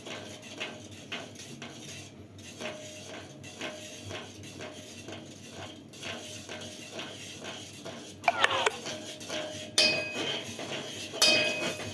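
Spoon stirring Bombay rava upma with ghee in a metal pan, a steady run of soft scraping and clinking strokes, with a few sharper clinks toward the end.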